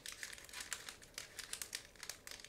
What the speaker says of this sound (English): we have to use scissors in order to cut through and open this plastic bag